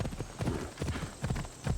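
Horse hooves galloping in Assassin's Creed Odyssey, a steady rapid clip-clop of hoof beats up close with no one talking over them.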